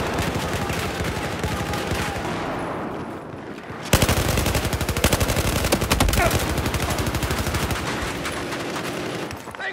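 Battlefield 4 video game gunfire: dense, loud automatic weapon bursts rattle continuously, with a sharper, heavier barrage of rapid shots from about four seconds on.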